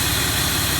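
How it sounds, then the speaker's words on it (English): Diesel truck engine idling after an EGR and DPF delete, a steady low rumble with a whooshing, airplane-like turbo whine over it, constant and close throughout. "this is pretty much what it sounds like when it's idling"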